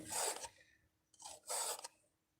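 A metal file rasps across the teeth of a pruning saw blade in two separate strokes, close and fairly quiet, with a pause between them.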